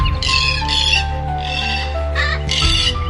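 A blue-and-yellow macaw in a Brazilian forest gives a series of loud, harsh squawking calls in several bursts over a steady background.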